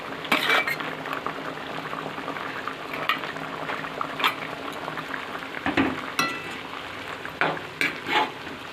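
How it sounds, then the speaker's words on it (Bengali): Fish curry gravy with prawns simmers in a pot in a home kitchen, giving a steady low bubbling and sizzle with scattered clinks of a utensil against the pot throughout. "আর একটু ঝোলটা ফুটবে।"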